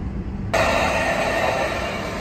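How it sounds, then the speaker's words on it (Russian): An Italian passenger train, not a high-speed one, rumbles past on a line near Laigueglia on the Italian coast, starting abruptly and holding a steady, loud roar with faint rail hiss throughout. "Итальянский поезд."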